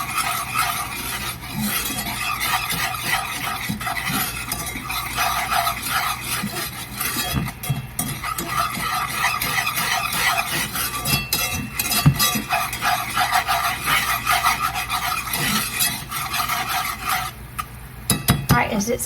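A spoon working a garlic butter mixture around a cooling pan on a switched-off stove, with close scraping and clinking of utensil on metal over a soft sizzle, no speech.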